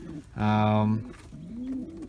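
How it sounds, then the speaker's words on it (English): Racing pigeons in a loft during breeding season give a loud, close burst of low, harmonic cooing lasting about half a second, followed by a softer, rising coo. "All the birds are going crazy."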